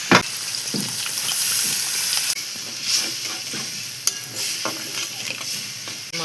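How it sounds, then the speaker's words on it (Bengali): Water goes into a pan of sizzling spice masala for a boal fish kalia, producing a loud, close, hissing sizzle broken by stirring scrapes and a sharp clack, with no speech. "এবার আমি একটু জল দিয়ে দেবো।"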